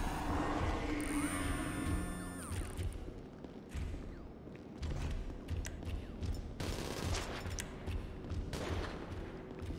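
Video game weapons fire in rapid bursts, dense machine-gun rattles and repeated shots layered with electronic tones and mechanical clicks, close and continuous throughout.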